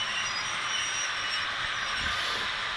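Model trains run on an indoor layout, producing a faint, continuous rolling rumble with light wheel noise and a brief louder swell near the end, with no one speaking.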